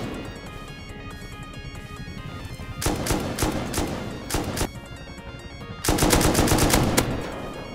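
Rapid automatic gunfire from the survival game Rust crackles in two loud sustained bursts, the second longer and louder, over a quieter background of game noise.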